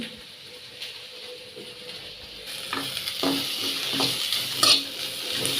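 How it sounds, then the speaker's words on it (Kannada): Poppy seeds frying in a pan, a soft sizzle that swells after a couple of seconds into louder crackling with repeated spoon scrapes and stirring, close by. "ಸ್ವಲ್ಪ ಗೋಲ್ಡನ್ ಕಲರ್ ಬರುವ ಹಾಗೆ ಫ್ರೈ ಮಾಡ್ಕೋಬೇಕು"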